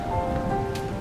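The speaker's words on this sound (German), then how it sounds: "Es ist kalt, es regnet." Steady rain falls in a misty ghost town within a video game, a continuous soft patter with faint tonal music hums underneath, no voices.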